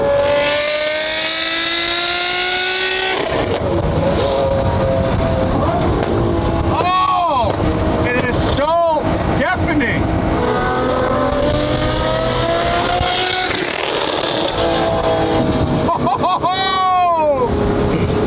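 A modified Porsche engine revs hard and loud, with sharp rising and falling bursts, while people talk over it.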